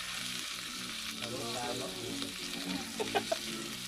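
Pork fat sizzles and crackles steadily in a frying pan while cooking pakbet, with a continuous frying hiss, a low hum underneath and a few sharper pops near the end.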